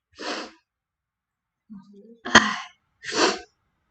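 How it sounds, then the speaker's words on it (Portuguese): A single sharp sneeze bursts out after a brief breathy intake, with short breathy vocal sounds before and after it, close to the microphone. "Dá vontade de espirrar no meio da live."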